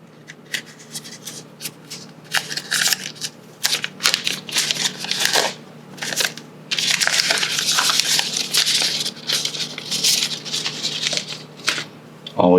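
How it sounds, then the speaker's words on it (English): A OnePlus 9 Pro being unwrapped from its packaging, with bursts of close crinkling, rustling and peeling of plastic film in uneven spurts between quieter pauses. "Let's go ahead and do the unwrapping."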